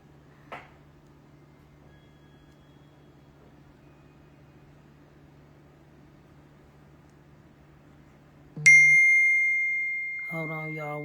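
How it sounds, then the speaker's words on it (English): A phone sounds a sudden, loud ringing tone after a long stretch of quiet room hum, then follows it with a short rapid series of chirping beeps at the end. "my phone beeps."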